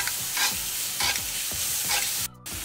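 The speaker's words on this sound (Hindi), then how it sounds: "देखिए प्याज अच्छे से डालेंगे इसमें और इसको अच्छे से ऐसे मिक्स करते रहेंगे" Onions for kulcha chole fry and get stirred in a hot pan, with repeated scraping strokes over a constant loud sizzle and a short pause near the end.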